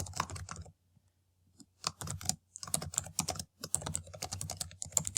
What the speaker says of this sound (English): If I can talk and type at the same time, that would help.